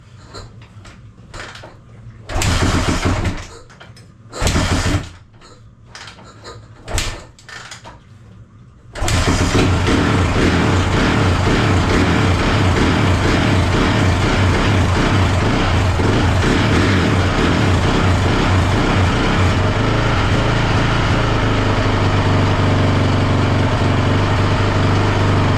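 Honda engine cranking in several short bursts that stutter and die, then catching and settling into a loud, steady idle that runs on for over fifteen seconds.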